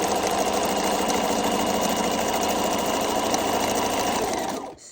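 A Bernina 1000 Special sewing machine runs a steady, continuous buttonhole stitch, its fast mechanical whir and rhythmic needle chatter holding loud and close before cutting off at the end.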